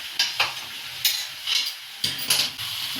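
Young jackfruit frying in a pan gives a steady close sizzle, with several sharp stirring scrapes as a little water is added.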